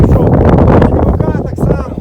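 Wind gusts roar against the microphone outdoors in a field where barley with alfalfa is sown by hand, a loud blustery rush that eases slightly toward the end while someone talks over it.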